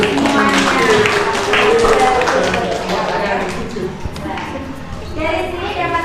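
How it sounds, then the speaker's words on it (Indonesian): Classroom applause for a student group after a persuasive speech in an Indonesian lesson: dense, steady clapping mixed with children's voices, fairly loud and continuous, thinning slightly toward the end. "Kita beri tepuk tangan untuk kelompok semuanya"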